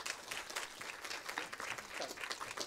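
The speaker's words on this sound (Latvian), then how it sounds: "Aplausu viens otram." At a conference, the audience applauds in a continuous, fairly faint patter of many clapping hands, with a voice faintly audible beneath the clapping.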